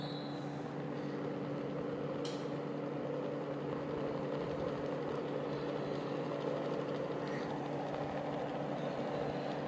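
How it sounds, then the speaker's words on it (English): A dual-rotor axial flux BLDC motor runs at a steady pace, giving a constant low electrical hum with a faint whine, unchanging throughout, near and moderately quiet with no talking. "The motor is running."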